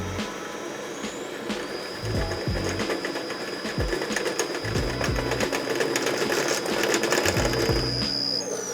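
A lubricant wear test machine spins at 1760 RPM with a steady mechanical whir, repeated gear-like clicking and ratcheting, and a thin high whine that builds toward the end.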